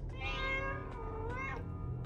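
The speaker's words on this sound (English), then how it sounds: "Do you mind shutting up, cat?" Several plaintive meows from a cat in the horror video game FNAF Into the Pit, rising and falling in pitch, close and clear over a low game ambience.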